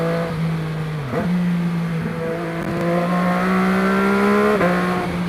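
An MV Agusta F3 675 sport motorcycle with throttle-by-wire revs its engine in a workshop. A steady, buzzy idle climbs repeatedly into higher, rising revs, close and continuous.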